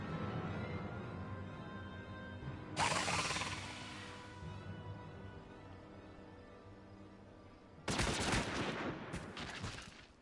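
Gunfire in Final Fantasy XIV: two sudden bursts of rapid shots cut through a quiet musical backdrop, the first near three seconds and a louder double burst near eight seconds, with no talk.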